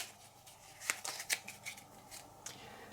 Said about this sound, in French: au début du jeu, on dispose de 12 cartes que je vais mélanger